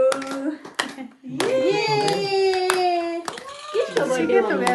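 A group at a birthday celebration claps and cheers, a few sharp hand claps followed by a burst of sustained singing voices including a child's.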